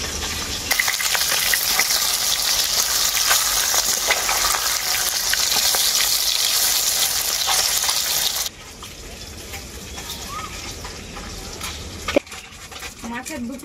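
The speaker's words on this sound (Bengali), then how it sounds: "এখন মাছগুলো আমি তেলের মধ্যে ভেজে নেব।" Fish frying in hot oil sizzles loudly and steadily, then the sizzle drops to a quieter crackle partway through, with a sharp clatter near the end.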